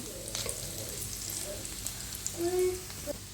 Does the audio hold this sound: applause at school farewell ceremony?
no